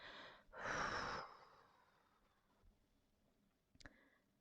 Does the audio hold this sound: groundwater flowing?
no